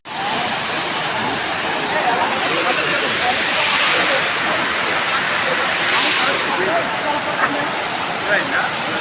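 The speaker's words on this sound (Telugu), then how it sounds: "చూపించాను కదా, అదే వాటర్ ఫాల్స్." A waterfall near Araku in the hills outside Vizag gives off a steady, loud rushing roar that stays constant and close for the whole stretch.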